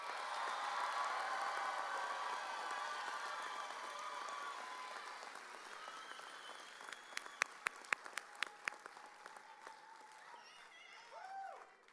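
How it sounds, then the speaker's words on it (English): Commencement crowd applauding graduates at a College of Business ceremony, a broad, distant wash of clapping in a large hall that thins out, then a few sharp individual claps and a faint whistle near the end. "Let's give them one final round of applause."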